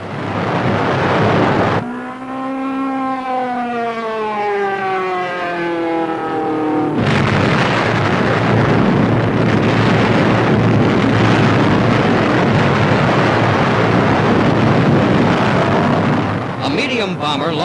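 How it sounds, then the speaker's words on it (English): A concentrated salvo of 100-pound aerial bombs from a 1944 US Army Air Force demonstration, heard as a loud continuous roar of blasts that follows a rising whine, with a newsreel narrator talking over it. "demonstrate the terrific destructive power of their latest bombs. 100 pounders in a concentrated salvo"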